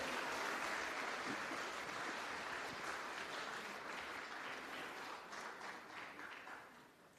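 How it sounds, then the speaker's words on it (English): A crowd applauds the Maie Sitete Siva dance academy at its 10-year anniversary show, a steady, even wash of clapping heard from a distance that thins and fades toward the end. "Can we have a round of applause, of course,"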